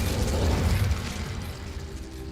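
A fire spell cast in the Hogwarts Legacy video game, a loud whooshing burst with a deep rumbling low end that swells in the first second and then settles into a sustained crackling roar.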